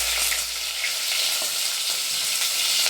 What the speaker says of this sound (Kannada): ಈರುಳ್ಳಿ ಚೆನ್ನಾಗಿ ಬ್ರೌನ್ ಕಲರ್ ಬರೋವರೆಗೂ ಫ್ರೈ ಮಾಡ್ಕೊಳ್ಳಿ